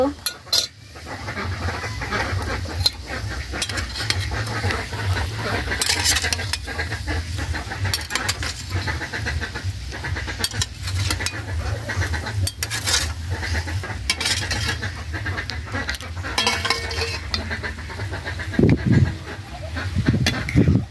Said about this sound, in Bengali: এবার আমি কই মাছগুলো একে একে করে ছেড়ে দিব।